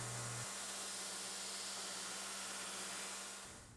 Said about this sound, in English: Now it's time to grind the blade.